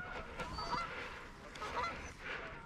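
Canada geese landing during a pre-season goose hunt honk repeatedly in a loose, irregular series, moderately distant and fairly faint against a quiet outdoor background.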